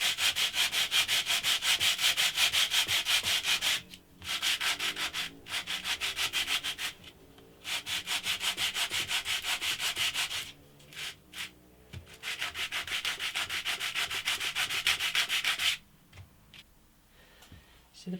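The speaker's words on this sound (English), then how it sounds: "the problem with sanding it like that is what I found with trying to make the bridge patch" Close, steady hand sanding of wood veneer on the front of an antique parlour guitar, with long rhythmic back-and-forth strokes in bursts and short pauses between them.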